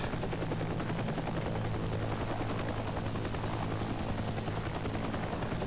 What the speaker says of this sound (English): There is enemy helicopters everywhere